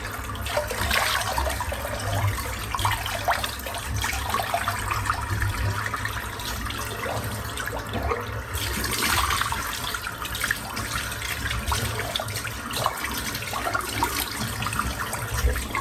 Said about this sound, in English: So that was a good splash of warm water, and then finish off with a splash of cold.